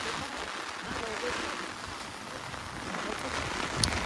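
Steady heavy rain pours down over a village in a continuous broadband hiss, with occasional louder drips and spatters standing out.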